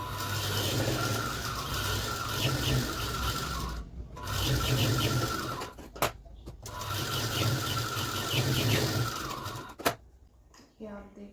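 A sewing machine stitches a princess cut blouse in long whirring runs separated by short pauses and a few clicks, close up, with some speech present.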